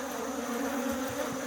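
Honey bees in a shrunken hive split, down to roughly a single frame, give off a close, steady, continuous hum that holds even throughout with no voices over it.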